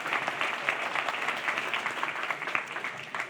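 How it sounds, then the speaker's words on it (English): Audience applause at a brightonSEO conference talk, a dense steady patter of many hands clapping throughout, moderately loud and close, with no voices over it. "Big round of applause."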